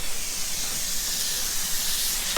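Water sprays from a valve on a farm in a steady, close hiss that holds unbroken for a couple of seconds.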